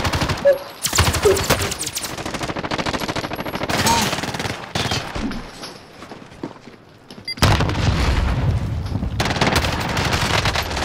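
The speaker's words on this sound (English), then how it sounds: "Two people shooting at me at the same time" Rapid automatic gunfire and bursts of shots from the video game Call of Duty: Modern Warfare, loud and sustained with brief pauses, as two players fire at once; a voice talks briefly amid the shooting.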